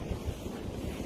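Steady wind buffeting the microphone on an open hilltop walk over the South Downs, a continuous low rumbling roar with no voices.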